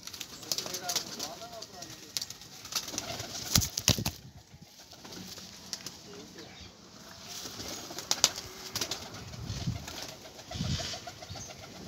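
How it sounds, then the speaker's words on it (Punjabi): A pair of golden pigeons coo in low, repeated calls amid occasional wing flutters, heard up close beneath people talking. "ਉਹਦੇ ਨਾਲ ਦਾ ਗੋਲਡਨ ਇਹ ਪੱਲੇ ਕਾਲੇ ਸੇ ਦੇ ਇਹ ਗੋਲਡਨ ਕਬੂਤਰ"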